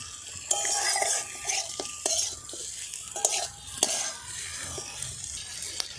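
Masala for a prawn and potato curry stirred in a pot over a low flame, with a metal spoon scraping and clinking against the pan in irregular strokes over a faint sizzle, close by and with no talk.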